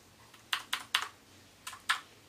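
Keys clack on a CM Storm Quick Fire Rapid-i mechanical keyboard: a quick burst of three crisp keystrokes, a brief pause, then two more, close and clear over a quiet background.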